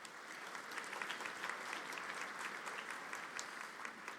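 Steady applause from an audience at a Class of 2022 commencement ceremony, a faint, distant wash of many hands clapping continuously without a break.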